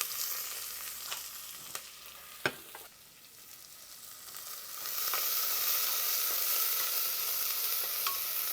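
Onions and green chilies frying in a pan for tomato rice, a steady broadband sizzle that swells louder midway, with a few sharp clicks of stirring early on; no voices.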